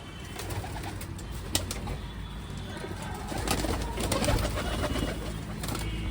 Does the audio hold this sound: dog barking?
no